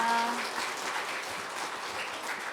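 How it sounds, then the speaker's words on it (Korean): Congregation at a Sunday afternoon church service in Tongyeong applauding to welcome a speaker, steady moderate clapping from many people that carries on evenly, with a faint voice trailing off at the very start. "우리 한번 박수로 환영하겠습니다."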